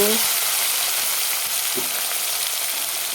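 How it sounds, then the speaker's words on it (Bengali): Chapila fish frying in hot oil in a wok, a loud, steady sizzling hiss running throughout with a few faint clinks of stirring. "কড়াইতে তেল বসিয়ে দিলাম তেলটা গরম হয়ে গেল এখন মাছগুলো দিয়ে দেব মাছগুলো কিছু ভেজে নামিয়ে নেব"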